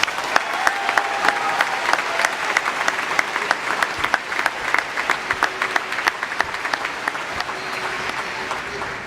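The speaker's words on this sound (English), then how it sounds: "Let's give them a round of applause" Audience applause at a high school graduation commencement honoring the K–12 faculty: steady, dense clapping from a large crowd, sustained throughout at moderate level.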